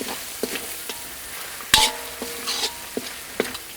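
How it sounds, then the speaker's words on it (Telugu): Curry leaf chicken fry stirred in a hot pan with fresh coriander, a few soft scrapes and clinks over a low sizzle, with one sharper metallic knock of the spoon partway through. "కాస్త కొత్తిమీర కూడా ఇప్పుడే వేసేసుకుని ఒక్క నిమిషం పాటు బాగా కలిపేసుకుందామండి"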